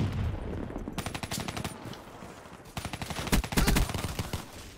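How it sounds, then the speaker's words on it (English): Rapid automatic gunfire from Call of Duty Black Ops 3 rattles in two long bursts of fast, evenly spaced shots, fairly close, with a brief lull between them and no talking over it. "What the hell are you shooting at me for"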